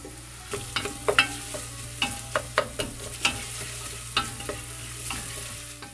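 Onions fry over high heat in a pan with celery, a continuous low sizzle punctuated by sharp scraping and tapping strokes of a utensil stirring, close, with no talking.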